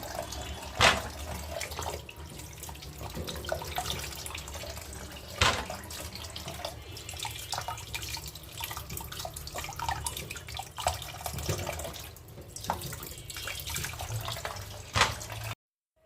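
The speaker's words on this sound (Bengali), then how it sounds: "টমেটোগুলো ভালো করে পরিষ্কার করে ধুয়ে নিচ্ছি" Tomatoes, about five kilograms bought for a sauce, are washed under a running kitchen tap, with steady water flow and splashing, a few sharper clatters and drips throughout, fairly close and with no talking.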